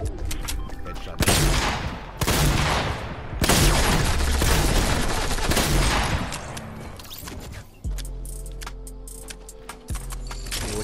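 Gunfire in a Fortnite match, including shotgun blasts: dense, loud bursts of shots and booms close up, in heavy volleys with short gaps, followed by quieter rumbling game sounds.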